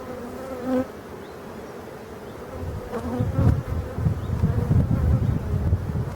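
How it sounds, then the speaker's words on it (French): Black honey bees in an opened beehive, a dense close buzzing hum that swells louder and fuller partway through and carries on steadily to the end. "comme ce sont de belles abeilles noires ici"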